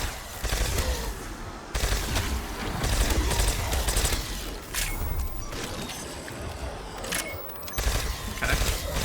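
The Ray Gun Mark 2 fires in Black Ops 7 Zombies, with dense bursts of rapid energy shots and impacts that continue with brief pauses, loud and busy against game noise.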